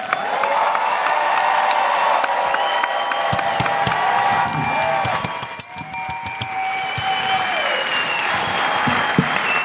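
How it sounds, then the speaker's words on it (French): Theatre audience at a comedy show clapping loudly and steadily, with bright ringing bell-like tones and musical sounds cutting through the applause partway through. "Public et humoristes, applaudissez deux gars ordinaires."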